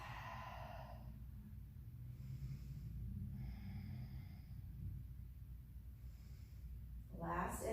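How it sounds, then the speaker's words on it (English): Slow, steady breathing during a vinyasa yoga flow, several soft, spaced inhales and exhales, faint and close, over a low room hum. "And just breathe."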